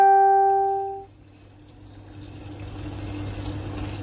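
Hot water is poured into a pot of cooked chicken for tinola, a rising gush and splash that swells steadily after a fading tonal ring at the start.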